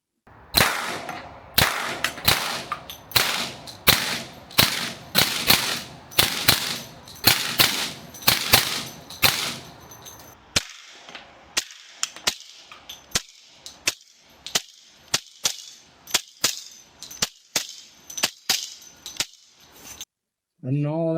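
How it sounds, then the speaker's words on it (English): Suppressed Smith & Wesson M&P FPC carbine in 10mm firing 180-grain Federal rounds outdoors: a rapid string of sharp, close cracks, then slower evenly spaced single shots, loud and without speech. "Shooting suppressed is pretty fun because it also helps mitigate whatever little recoil there is there and just kind of gives that psh, psh kind of setting."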